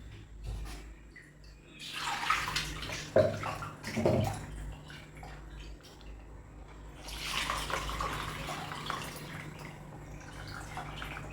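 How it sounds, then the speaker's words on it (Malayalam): Plain water is poured into a pan of ginger theeyal curry in a couple of soft splashing pours, then a gentle simmer. The sound is close but fairly quiet, and no one speaks. "വെള്ളം പോരാ, അപ്പോൾ കുറച്ച് വെള്ളം ഒഴിച്ചു."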